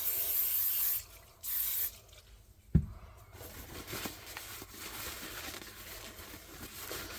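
Several short hissing bursts of cleaner sprayed on a Yugoslavian M70 bayonet sheath, close up, separated by brief pauses, followed by a thud and soft rubbing sounds.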